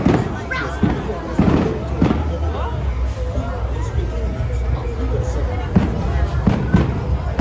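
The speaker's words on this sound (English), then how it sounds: "You can really hear those fireworks." Fireworks at Disneyland near the Matterhorn, with repeated booming bursts and crackles over a crowd's steady murmur and talk, the blasts loud and echoing from a short distance.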